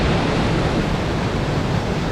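Water from Bomuru waterfall, part of a chain of sixteen falls, pours down in a dense unbroken roar, loud and close, with no other sounds rising above it.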